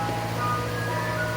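A Mister Softee ice cream truck plays its chiming jingle on a street, steady and moderately loud under background traffic hum, heard from a front porch.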